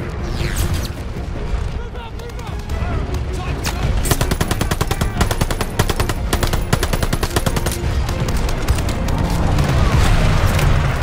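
Machine gun nest firing in Call of Duty: Vanguard's WWII El Alamein battle, long rapid bursts of automatic gunfire close and loud, layered with booms and battlefield clatter, with shouting voices mixed in.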